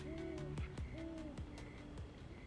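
An owl hoots at night in a forest, giving several soft, low hoots in a row at moderate distance, with chirping and whistling calls from other birds around it.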